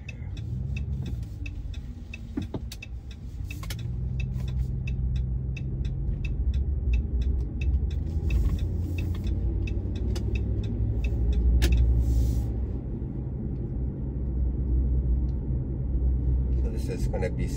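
A car driving through city streets near South Regent Park and Regent Street, a steady low engine and road rumble from inside the vehicle with a few ticking sounds, under a voice talking throughout.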